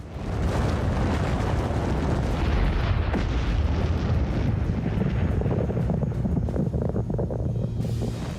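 An atomic bomb explosion sound effect, a sustained, massive roaring blast with deep rumbling and wind-like turbulence that holds loud throughout before easing slightly at the end.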